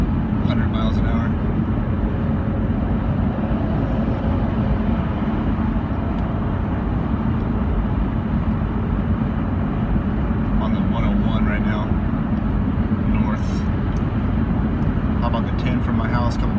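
A car comes up fast from behind at around 100 miles an hour while the recording rides in a moving vehicle, its steady road and engine rumble filling the whole stretch with no clear surge.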